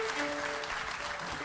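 A brief burst of steady audience applause at a live televised Turkish music show, with a held musical tone faintly underneath.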